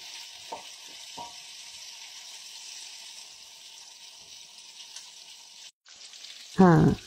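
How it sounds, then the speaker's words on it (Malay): Continuous hiss and crackle of cakes frying in oil, steady and close, with a few light clinks and a louder scrape near the end. "kita goreng dulu fish cake ni"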